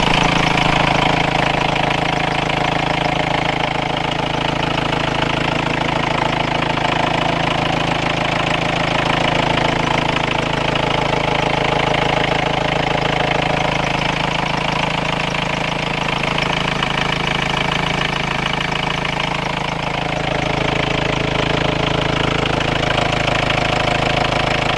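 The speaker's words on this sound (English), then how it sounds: "then I can turn the engine off so you can actually hear me" A camper van engine idling under the open bonnet, a steady, continuous mid-pitched rumble heard up close, unchanging throughout.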